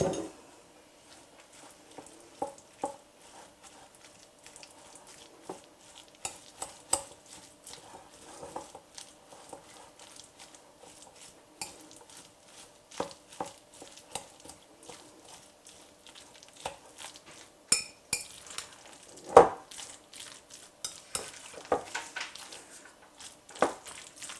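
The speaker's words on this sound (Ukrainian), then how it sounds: "Додаю 3 столові ложки майонезом і все добре перемішую." Soft, irregular squishing and scraping as a Chinese cabbage and green pea salad with mayonnaise is stirred in a bowl, with occasional sharper clinks of a spoon against the side.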